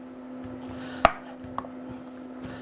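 Knife chopping onions on a board while making beef stew, a few sparse separate strikes, one sharp and clear, then a softer one, over a steady low hum with no talk.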